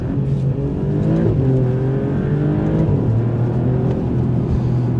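An Alfa Romeo Giulia Quadrifoglio engine revs with a deep grumble, pitch climbing and dropping through gear changes, steady and fairly close, with no talking.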